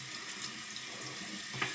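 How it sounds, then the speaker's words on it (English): Hot water runs steadily from a tap to soak a shaving brush before a straight razor shave, a continuous close hiss of flowing water alone, with a faint splash near the end. "So now I'm wetting my brush. I'm getting the hottest water I can on it."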